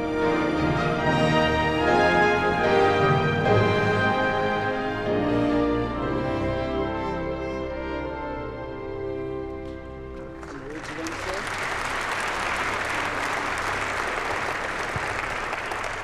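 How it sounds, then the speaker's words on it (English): Sustained tonal music plays for about ten seconds at a space symposium opening ceremony, then a large audience bursts into broad applause for the NASA Kepler mission's award, the clapping continuing steadily to the end. "we applaud the NASA Kepler mission"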